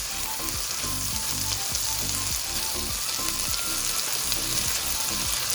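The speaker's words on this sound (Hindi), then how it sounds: "चिकन तकरीबन ऑलमोस्ट फ्राई हो चुकी है।" Chicken fries in a pan with a loud, dense, continuous sizzle and crackle, close up and steady throughout, with no voices.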